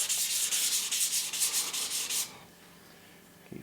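Sanding pad rubbing back and forth across a scratched metal motorcycle exhaust in rapid, steady strokes, loud and close, stopping partway through and leaving near silence with a faint knock at the end.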